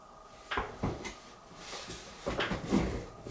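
A chair creaks and knocks in a few short bursts, nearby and fairly quiet, with soft shifting noises between them.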